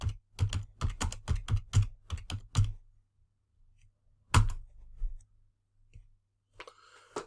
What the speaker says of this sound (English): So let's see what happens if I type in bridal outlet in Google.